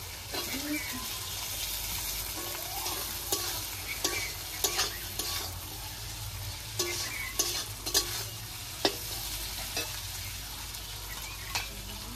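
Steady sizzling of chicken frying in a pan with capsicum, with scattered clinks and scrapes of stirring throughout; no talking.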